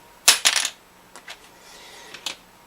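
A few sharp, bright clicking taps on a small Tusq guitar saddle, two quick clusters then fainter ticks, close up and quiet.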